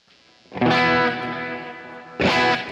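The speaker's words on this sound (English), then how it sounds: "you can hear it kind of, when it echoes back and forth, there's a little bit of a chorus" A distorted electric guitar chord rings out and sustains with a swirling, echoing tail, then a second strum hits near the end.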